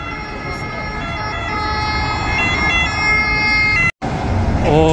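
Police car sirens wail near the Colosseum in Rome at night, several wavering tones overlapping close by above street traffic noise, with a brief cutout near the end.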